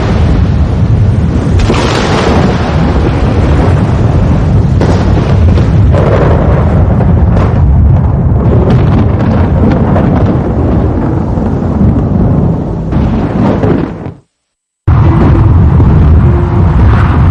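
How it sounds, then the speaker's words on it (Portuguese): A lightning strike with rolling thunder plays as a loud sound effect, a continuous heavy rumble with crackling bursts that cuts out briefly near the end before resuming. "Um raio foi criado."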